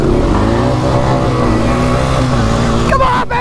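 A Honda Rancher ATV on paddle tires accelerates hard at the start of an informal race, its engine roaring loud and close with a steady, rising drone throughout.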